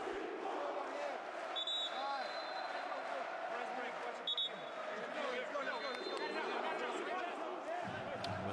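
Basketball arena crowd at a Basketball Champions League game, Muratbey Usak Sportif against BC Neptunas, roaring steadily throughout with loud cheering, whistles and chatter, shoe squeaks and a ball bouncing underneath.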